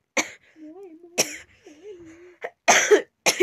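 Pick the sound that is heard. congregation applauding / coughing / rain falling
coughing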